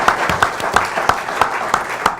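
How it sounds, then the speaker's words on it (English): A small group claps on a sports talk show about the Ravens, sparse, fairly regular claps roughly three or four per second, close and moderately loud. "I think that deserves a round of applause."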